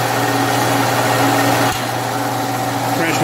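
Austin Healey overdrive gearbox running in gear on a test rig, giving a loud, steady mechanical drone and whine with a brief dip partway through, close and continuous.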